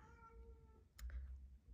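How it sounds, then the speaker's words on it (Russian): A cat gives a single plaintive meow, fairly faint and brief, following a quiet stretch of soft tonal background sound indoors. "Кто не слышал сейчас жалобного мяука второго, это мой кот."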